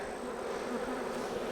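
Honey bees swarm and buzz around an active hive in a steady, dense drone that holds at moderate loudness throughout with no voices.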